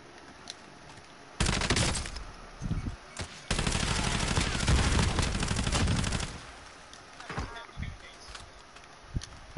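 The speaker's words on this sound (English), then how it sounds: "Where is this gunshots coming from? We're getting shot from somewhere." Gunfire from the video game Warzone crackles in rapid automatic bursts, one long sustained volley among shorter ones, with scattered single shots and footstep-like thuds in between.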